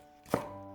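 A single knife stroke chops through a deseeded green pepper on a cutting board, one crisp thunk near the middle with a steady low hum behind it.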